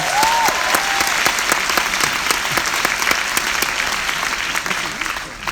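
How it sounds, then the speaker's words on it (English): Audience applause at a 25th-anniversary film screening event, a dense, sustained wash of clapping from a large crowd, steady and loud before gently tapering at the end. "So let's give him a round of applause."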